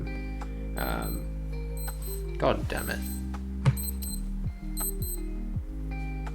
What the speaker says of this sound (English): That's the alarm for 2 a.m